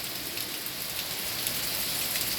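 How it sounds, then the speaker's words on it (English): Steady rain falls during a wet spell with puddles and brisk wind, a dense even hiss of drops pattering on surfaces nearby, constant and moderately loud with no voices. "We've needed rain."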